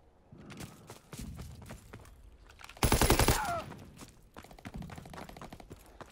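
STG assault rifle fire in a video game: one rapid, loud automatic burst of about half a second, set against quieter scattered shots and game noise before and after.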